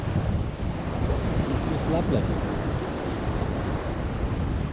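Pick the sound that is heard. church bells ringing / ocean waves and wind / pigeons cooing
ocean waves and wind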